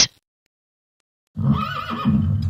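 A horse neighs in a modded Minecraft game, one loud whinny with a wavering, rising and falling pitch that starts after a short silence following a brief click.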